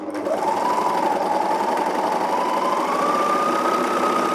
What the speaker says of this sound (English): I'll stitch that same side through without me doing anything